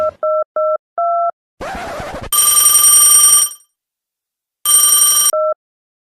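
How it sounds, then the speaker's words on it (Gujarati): A phone call to a police station: a few short keypad dial beeps, a brief burst of noise, then loud electronic ringing in two separate bursts, with a last beep at the end. "હું પોલીસ વાળાને ફોન કરું છું"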